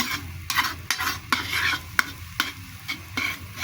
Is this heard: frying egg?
yes